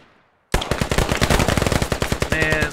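Pistol fire in the video game Squad comes after a brief quiet moment. A loud, close burst of rapid shots follows in a fast, uneven rhythm, and a faint electronic tone comes in near the end.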